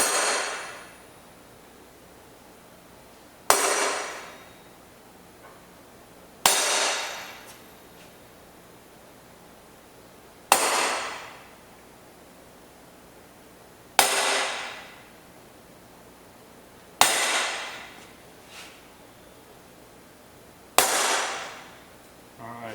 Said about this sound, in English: Just going to center punch these holes.